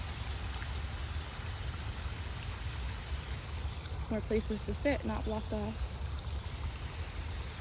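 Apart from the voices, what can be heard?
small man-made waterfall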